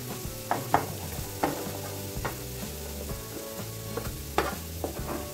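Onion and garlic sautéing together in a pan, a soft steady sizzle punctuated by a few clinking stirs of a utensil, quiet and close.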